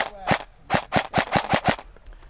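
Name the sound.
airsoft gun shots during an airsoft game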